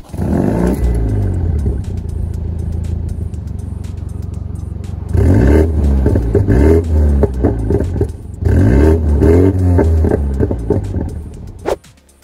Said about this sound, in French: On notera également aussi un pot d'échappement retravaillé à la sonorité enivrante